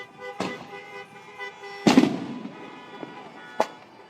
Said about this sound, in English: those are fireworks in the sky.